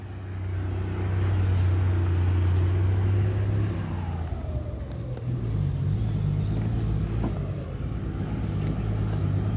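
A vehicle engine rumbles low and steady as it climbs a slope, then the drone drops and shifts partway through, continuing at a lower pitch with no voices.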